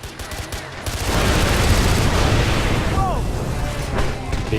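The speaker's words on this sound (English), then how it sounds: "Big explosion to start things off." Big explosion in the video game Far Cry 4, a loud sustained roaring blast with gunfire crackle and ringing debris, and a voice talking over it.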